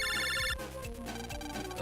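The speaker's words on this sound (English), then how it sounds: "A phone call?" A video game phone rings with a bright electronic ringtone, loud and close, first as a high repeating trill and then as a lower melodic pattern that continues to the end.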